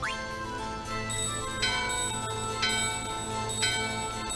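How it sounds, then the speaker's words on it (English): A hand bell and a doorbell chime in the Final Fantasy IX video game inside Gizamaluke's Grotto, three bright rings spaced about a second apart over a sustained musical background. "The bell in your hand and the doorbell are ringing."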